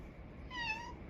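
A domestic cat gives a single short meow, clear and fairly close, over a low steady background hum.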